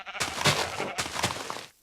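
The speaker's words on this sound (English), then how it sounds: "There's a bunch of sheep around here." Sheep bleating in a Minecraft modpack game, two short wavering bleats in quick succession, close and clear, ending with a brief click.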